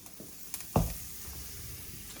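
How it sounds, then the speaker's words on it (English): Garlic hits a hot wok with a sudden sharp hiss, a few light clatters before it, then a steady low sizzle of frying continuing alone. "Let's get a bit of garlic in there. Start here to sizzle."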